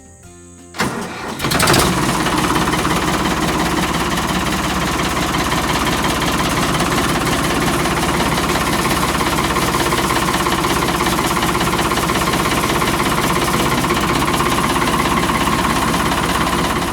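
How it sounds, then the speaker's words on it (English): A tractor engine catches after a brief cranking start, then settles into a loud, steady, knocking idle that runs unbroken and close by, with no voices. "let's go get on the tractor and"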